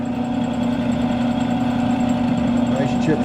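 A drill bit bores steadily through the metal of a Great Plains drill fill auger, giving a constant whining motor hum with a low drone beneath it and no pauses.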